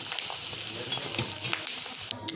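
Spice masala fries in a pan for khasi sukuti, a dried goat meat pickle, giving a close, continuous bright sizzle with faint crackles and light stirring throughout.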